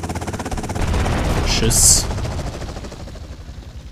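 Sustained machine-gun fire rattles against a helicopter's rotor roar in the video game GTA Vice City Stories, a dense, loud, continuous barrage. A voice speaks briefly over it.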